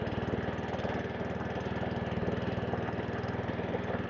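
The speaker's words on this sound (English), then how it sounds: "Not a bad little mower at all." A Webb WER41SP power-drive lawn mower engine runs at a steady idle, off choke and no longer surging, with an even, continuous mid-pitched drone and no voices.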